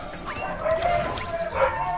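Cartoonish dogs bark and yip in Spyro Reignited Trilogy, a few quick barks with whimpering tones set against steady game music and effects.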